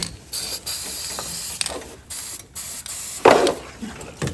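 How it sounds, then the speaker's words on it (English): Short bursts of aerosol lubricant spray hiss in quick pulses onto the blade brake spring of a John Deere 42-inch mower, with soft mechanical clicks between them. "I'm going to spray a little lubricant on the spring right here"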